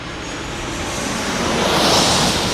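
A Boeing airliner in 100 Years livery passes at San Diego airport with a broad, loud jet roar that swells toward the middle, heard from outdoors.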